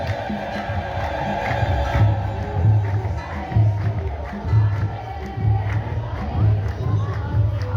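A crowd at an Ethiopian Orthodox church feast celebration ululates in praise, high trilling voices rising in repeated rhythmic waves, loud and close, one burst after another.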